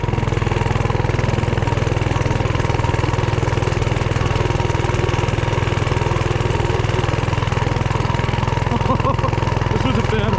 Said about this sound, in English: Probably because the engine's under a massive load.